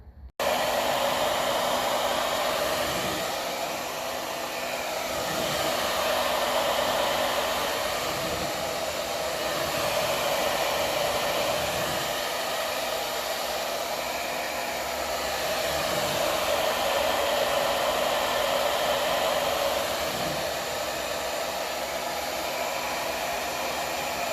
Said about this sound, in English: I might just give it a blast of the hairdryer